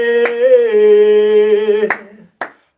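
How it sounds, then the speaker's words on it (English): Two sharp hand claps struck as a double clap during a haka, landing about half a second apart after a long sustained chanted vocal tone fades out. "Double clap"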